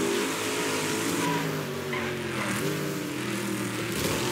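Opponent race car engine in the video game Wreckfest revving close behind, a steady, loud growling drone with shifting pitch that rises and falls throughout, with no talk over it.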